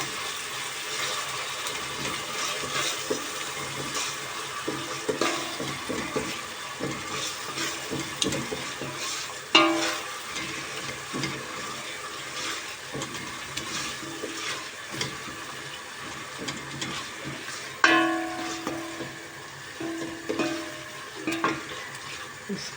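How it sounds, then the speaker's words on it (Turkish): Onions and tomato paste sautéing in a soup pot for a spinach soup, a soft continuous sizzle with repeated stirring scrapes and two sharper clinks of the spoon against the pot. "Şöyle bir kavuralım salçasıyla."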